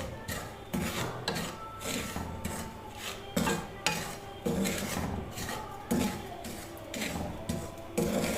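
Semolina roasting in a pan for barfi, stirred with a spoon in steady rasping scrapes against the metal, a repeated close rubbing rhythm with occasional louder knocks, no talking over it.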